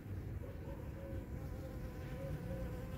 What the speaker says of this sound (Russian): Уже пчелы летают.